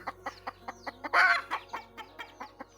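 Hens clucking close by in a steady series of short rhythmic clucks, with one louder drawn-out squawk in the middle.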